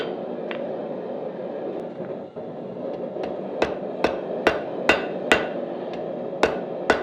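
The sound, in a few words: hammer forging steel, drawing out a taper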